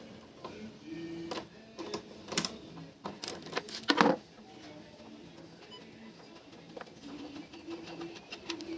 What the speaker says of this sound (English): Here I am going to open this bolt.